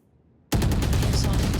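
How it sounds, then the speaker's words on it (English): Gunfire in the tactical shooter Valorant during a pro match on the Bind map, a sudden loud burst that cuts in from silence and keeps crackling densely to the end. "Gets BM'd with a headshot wallbang."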